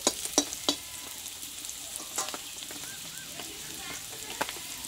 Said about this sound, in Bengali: পেঁয়াজটা কিন্তু এখানে ভালোভাবে ভেজে নিয়েছি